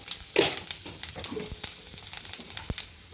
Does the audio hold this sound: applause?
no